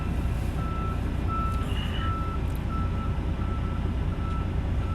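A truck's backup beeper sounds as a steady series of evenly spaced beeps while it reverses, set against loud, constant engine rumble and outdoor noise.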